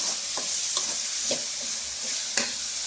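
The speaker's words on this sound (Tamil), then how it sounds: "தக்காளி போட்டாச்சு, நல்லா கலக்கலாம்." Onions and tomatoes frying in a pan for a homestyle fish curry are stirred with a spoon, giving a steady loud sizzle with a few sharp scraping strokes, no voices.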